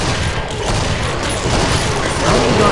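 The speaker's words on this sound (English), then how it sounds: "Freaking 8 shotgun shells to the face." Rapid shotgun fire in the video game Killing Floor 3, a continuous loud barrage of overlapping blasts and booms with chaotic combat noise filling the whole stretch.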